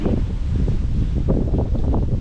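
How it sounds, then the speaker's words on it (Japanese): Wind during Typhoon No. 7 in Iga, Mie Prefecture, a steady rushing roar with rumbling gusts buffeting the microphone, continuous and close with no talk. "今のところ若干風は吹いてますが"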